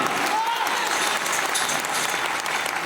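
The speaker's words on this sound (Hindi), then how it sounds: "मैं चाहूंगा एक जबरदस्त अब तक के जोरदार तालियां" Loud, steady applause from a large audience, dense clapping that continues without a break throughout.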